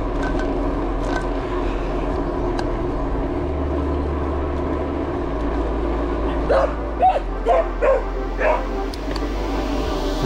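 A dog barks several times in a quick burst at a passing cyclist on a gravel trail, over steady tire rumble and wind noise, with a rider's voice also present.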